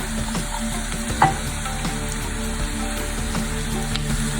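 Garlic and ginger sautéing in a pan for chana masala, a steady close sizzle and crackle of frying with a brief stir or clink partway through.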